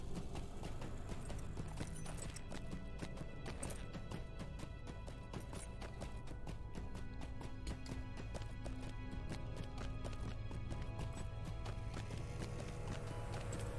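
Horse hooves clip-clop steadily in the fantasy online game The Lord of the Rings Online, a continuous rapid rhythmic trotting over ambient game music, with no talking.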